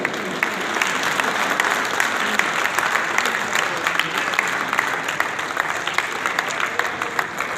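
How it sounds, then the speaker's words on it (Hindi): A crowd at a memorial gathering for Aman Ullah Khan breaks into loud, sustained applause, dense and even, with a faint murmur of voices beneath it throughout. "भरपूर तालियां होनी चाहिए"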